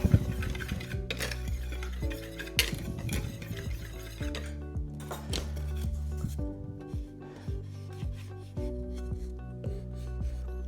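English muffin dough being mixed in a bowl, with continuous close scraping and rubbing strokes and occasional sharper knocks against the bowl, steady and moderately loud throughout.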